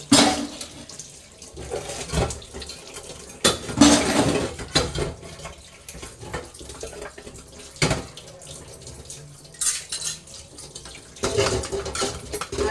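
Pooja vessels being scrubbed and washed with running water give close splashing and trickling over a steady run of clanks and scrapes of metal, with occasional brief speech in the background.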